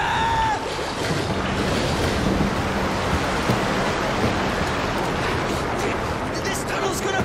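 Water rushes into a tunnel as a broad, steady wash of roaring noise, like surf or churning flow, that continues at an even level throughout.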